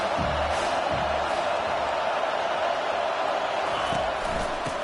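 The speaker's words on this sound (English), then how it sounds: "Decibels rising as the crowd gets behind this defense on 3rd down." A football stadium crowd roars steadily as the home defense faces third down, a dense, loud, continuous wall of cheering and noise with no breaks.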